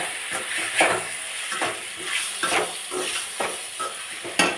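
Macaroni pasta being stirred in a hot pan, a spoon scraping and turning it in steady, repeated strokes over a continuous close-up sizzle, with no voices.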